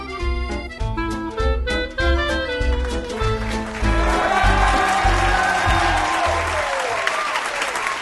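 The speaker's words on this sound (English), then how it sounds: "An actual audience applauding, not just a lovely sound effect from GarageBand." Audience applause and cheering rise beneath music in a live talk-show opening, with clapping swelling in the second half as the music fades.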